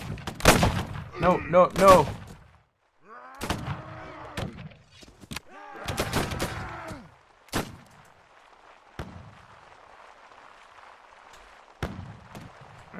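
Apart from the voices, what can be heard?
soldiers' musket gunfire in video game Caribbean!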